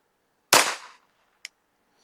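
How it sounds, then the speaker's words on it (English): A Taurus TX22 pistol fires a single sharp shot of CCI Standard Velocity rimfire ammo, loud and close with a short decaying tail, followed by a faint small click. "Now we got the CCI Standard velocity loaded up. Let's shoot a group at that bottom left target."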